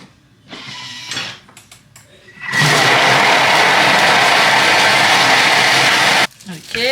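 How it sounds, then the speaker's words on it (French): Kitchen blender mixing vegetables for a home-cooked Ramadan iftar meal; a loud, steady whir starts abruptly, runs for several seconds and cuts off, with softer handling noises before it. "Et maintenant, on va venir mixer le tout."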